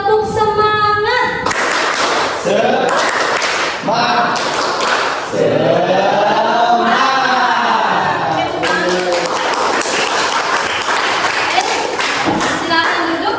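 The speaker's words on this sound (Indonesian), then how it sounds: "Kalau Bu Siti bilang tepuk semangat berarti aku sudah mulai." Classroom 'tepuk semangat' spirit clap: bursts of rhythmic group clapping and thumps alternating with sung and chanted voices of a teacher and pupils.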